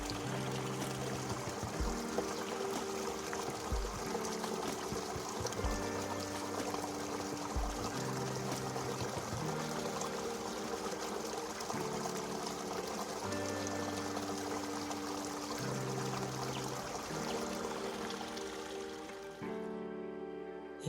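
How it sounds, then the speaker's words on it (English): A river in Michuki Park, Nairobi rushes steadily, a continuous watery wash heard through tree shade, with soft tonal music playing over it throughout. "the sound of the river"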